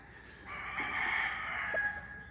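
A Gravedigger gamefowl rooster lets out a single loud, drawn-out crow lasting nearly two seconds, close by, with soft background noise around it.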